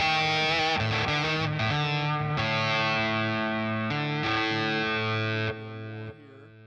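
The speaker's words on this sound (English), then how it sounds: "More distortion." A heavily distorted electric guitar played through a Bias FX amp model rings out in sustained chords with sharp changes, then drops in level and fades near the end.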